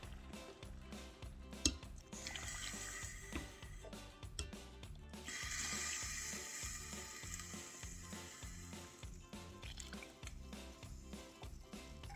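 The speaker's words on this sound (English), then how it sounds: "add my hot water" Hot water pours into a pot of Jamaican oxtail, a soft splashing rush that swells and fades twice, under faint background clatter.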